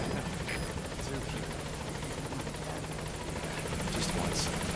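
Helicopter rotor drone from Metal Gear Solid V arriving at a landing zone, a steady loud whirring buzz filling the whole stretch with a constant low hum beneath, faint game chatter in the background.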